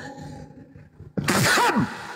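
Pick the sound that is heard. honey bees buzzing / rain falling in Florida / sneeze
sneeze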